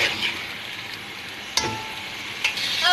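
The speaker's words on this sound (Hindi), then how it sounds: "अब हम इसे लहसुन अदरक के पेस्ट में अच्छे से मिक्स कर लेंगे" Boneless beef being mixed with garlic ginger paste for degi beef korma, a soft wet squelching and faint sizzle running steadily with a couple of sharp clicks, close and alone without talk.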